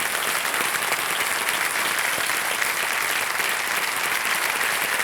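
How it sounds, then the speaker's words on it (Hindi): Loud, steady studio audience applause fills the whole stretch on a Hindi television quiz show, dense and continuous with no talk over it. "जोरदार तालियां बज जाए"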